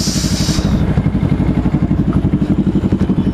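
A Yamaha NMAX scooter engine idles near a group of riders alongside other motorcycles, a close, loud, rhythmic chugging pulse running steadily throughout.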